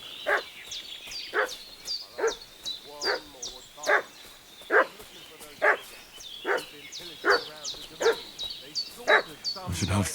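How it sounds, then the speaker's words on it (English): A dog in the game Kingdom Come Deliverance 2 barks repeatedly in a steady rhythm, roughly a dozen loud barks with whimpering yips between them, fairly close and alone. "What's that dog making such a fuss about?"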